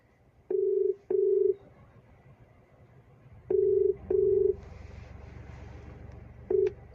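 A call placed through a Maruti Suzuki SmartPlay Pro+ car infotainment system rings out as loud, evenly pitched electronic tones in pairs of short beeps with pauses between them, over a low in-car hum.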